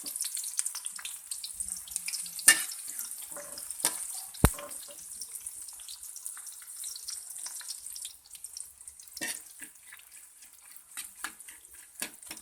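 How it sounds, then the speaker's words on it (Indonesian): Sliced shallots frying in hot oil, a bright crackling sizzle with scattered pops and a few sharp clicks of a utensil against the pan, steady and close. "Selanjutnya, kita goreng irisan bawang merahnya guys."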